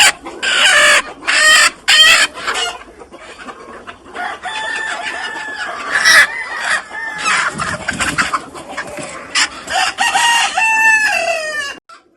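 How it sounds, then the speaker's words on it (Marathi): A free-range country hen clucks in bursts, with a rooster crowing loudly near the end; the calls are close and fairly loud, with short pauses between them. "त्याला म्हणतात प्युअर गावरान कोंबडी."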